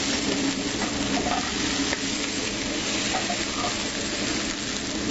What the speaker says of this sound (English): We're going to add shallots, about a half teaspoon of garlic. And we're going to let that cook here for a few seconds.